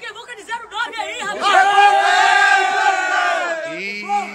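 A crowd of supporters cheers and shouts together, a loud, sustained swell of many voices that builds and holds before easing off near the end.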